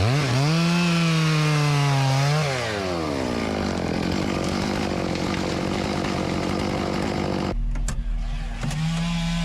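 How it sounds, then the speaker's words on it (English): A chainsaw revs hard while cutting through the hinge of a felled tree, its pitch dropping as it bogs into the wood, then easing to a rough idle before revving again. "As it starts to go over, I'll stick my saw back in there and weaken the hinge so it breaks off."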